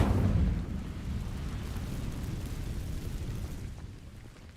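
A fiery burst from the Incendio spell igniting dry vines in Hogwarts Legacy, opening with a loud low whoosh that settles into a steady crackling roar and slowly fades.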